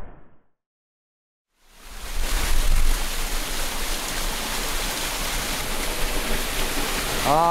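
A waterfall used for ritual standing under falling water rushes as a loud, steady roar after a brief silence, with a voice speaking faintly over it near the end.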